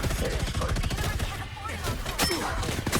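Rapid gunfire from Marvel Rivals, a dense rattling stream of close, loud shots, runs with little pause under excited talk.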